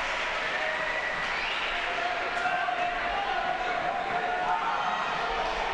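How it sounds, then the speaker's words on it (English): A crowd at a basketball game breaks into a broad round of applause, a steady wash of clapping and murmur lasting several seconds at moderate volume, heard from within the stands. "Nice round of applause for a nice young man"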